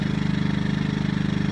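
A Yamaha EF2000iSv2 portable generator idles steadily with its choke partly pulled out, giving a close, even low thrum with a regular pulsing beat and no voices.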